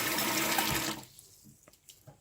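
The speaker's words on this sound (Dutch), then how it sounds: "Als eerste doet warm water in je gootsteen." Warm water running from a tap into a kitchen sink, a close steady splashing gush that cuts off after about a second, leaving faint drips and small clunks.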